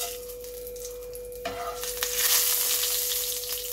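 Fenugreek seeds, a bay leaf and a dried red chilli fry in a little hot oil, a close crackling sizzle that jumps louder partway through as they are added and stirred, with a steady tonal hum beneath.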